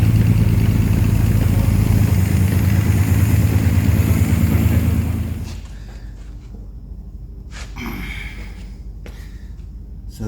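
A 1938 SS Jaguar 3½ litre drophead engine, started for the first time in over 50 years, runs with a loud, rough, close idle for about five seconds, then cuts out, leaving quieter scattered knocks and noises.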